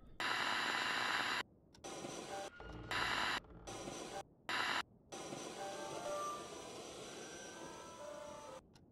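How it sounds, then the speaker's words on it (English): A radio in the horror video game Visage plays loud, static-heavy sound that cuts out abruptly several times before running steadily, with no talking over it. "There goes the radio."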